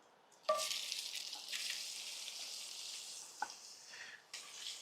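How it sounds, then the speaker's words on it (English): Onions hit the hot surface of a Lancaster 5-quart cast iron Dutch oven and burst into a loud, steady sizzle, settling into continuous frying with a brief clink partway through and no talking. "Next, we're gonna go in with some onions."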